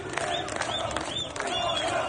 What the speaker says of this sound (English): Crowds are roaring death to the dictator in Tehran, Isfahan, Shiraz, and beyond